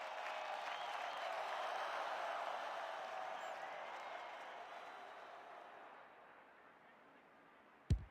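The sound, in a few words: crowd cheering at women's Australian football match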